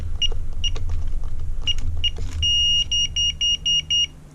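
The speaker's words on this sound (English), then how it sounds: "the batteries are going dead. That's why it's beeping extra" A Carbine electronic digital door lock with weakening batteries gives a series of short, high electronic beeps, first in scattered pairs, then a long tone and a quick run of evenly spaced beeps, heard close over a faint low hum.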